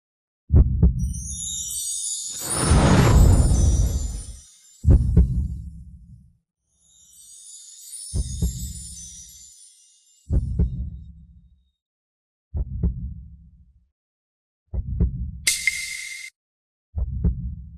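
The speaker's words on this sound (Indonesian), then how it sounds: "Apakah kamu mendengar detak jantungku?" Slow, deep heartbeat thuds, a regular sequence of about eight muffled low pulses with pauses between, interrupted by a swelling noisy whoosh and brief high shimmering tones.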